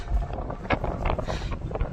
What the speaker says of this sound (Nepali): पुरा हावा चल्दैछ हो।